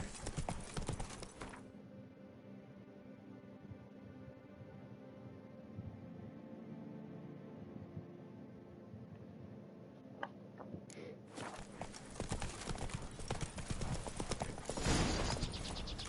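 A horse trots through The Witcher 3 in steady clip-clop hoofbeats at a moderate pace, heard close over a quiet game backdrop, with louder bursts near the start and end.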